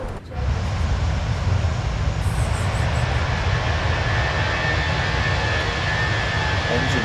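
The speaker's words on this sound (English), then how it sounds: "Engine screaming away nicely." A320 jet engines in a flight simulator game produce a loud, steady broadband roar that holds constant from near the start of the clip to the end, with no talk over it.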